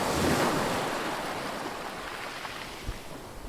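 Sea waves wash at the Thalassery sea pier in a continuous broad roar of surf, loud at first and easing slightly, mixed with wind buffeting the microphone.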